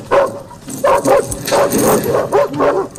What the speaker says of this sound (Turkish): Köpekler zincirlerle açık havada bir yere bağlanmışlar.